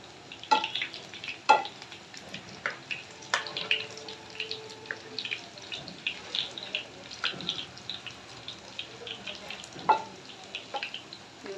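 Gram flour, egg and manik leaf fritters frying in a pan, with soft sizzling and frequent clinks and scrapes of a utensil in an uneven rhythm.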